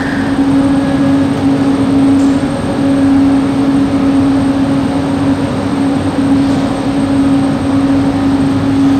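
A steady electric hum and rumble of a Kuala Lumpur electric train in motion, heard from inside, with a constant whine over the low drone and no talking.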